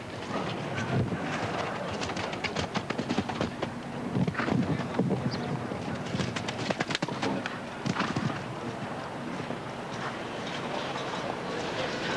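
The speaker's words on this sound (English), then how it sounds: "you can still hear some of the standing water on course with Clasiko coming down the final line" Horse hooves splash and thud through standing water on a wet show jumping course at Spruce Meadows, a busy clatter of strides under constant wind-buffeted outdoor noise.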